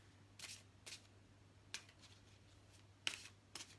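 Playing cards are shuffled and drawn, making several short, crisp riffles and snaps spaced apart, faint and close in a quiet room.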